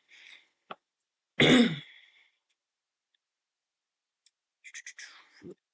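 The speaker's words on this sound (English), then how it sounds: "Please, I want this cough gone." One loud, harsh throat clearing, close to the microphone, in otherwise near silence, followed later by a few small clicks and faint mouth sounds.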